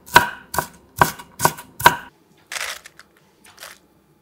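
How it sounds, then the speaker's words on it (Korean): A knife chops a quarter onion into small pieces on a board: five sharp, evenly spaced cuts, close and loud, followed by a few softer scraping sounds, with no voices. "작게 잘라주고"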